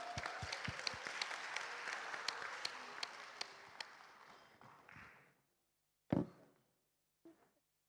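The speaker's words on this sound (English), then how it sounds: "Let's give them a big round of applause." Audience applause for participants at the ASEAN Future Sustainable Leaders 2025 competition, a dense burst of clapping with sharp individual claps that fades out after about five seconds, followed by a couple of isolated knocks in near silence.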